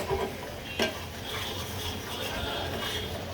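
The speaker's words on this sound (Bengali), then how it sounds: "এটা পেঁয়াজ তেলে আমি ভেজে নেই, কষিয়ে নিতে হবে" Onions sautéing in hot oil in a pan, with a steady soft sizzle, a sharp spoon clink near the start and continuous stirring scrapes close by.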